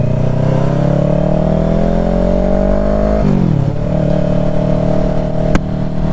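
A motorcycle engine with a slip-on exhaust idles loudly and steadily, its rough exhaust note rising slowly, then dipping briefly before settling back to a throaty rumble.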